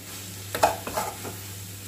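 Chicken samosa filling gets stirred in a pan after flour is added, with two or three quick spatula scrapes and knocks over a faint, steady sizzle.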